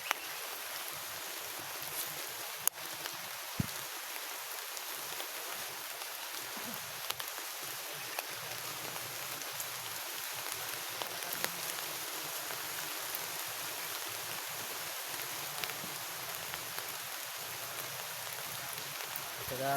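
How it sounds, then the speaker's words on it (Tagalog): Steady, heavy rain pours down in a dense, continuous hiss, with occasional louder drops and splashes standing out against the downpour. "Malakas na yata. Ano nang lumalakas ng ulan"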